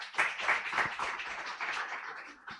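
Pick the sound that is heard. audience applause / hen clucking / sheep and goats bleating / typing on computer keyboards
audience applause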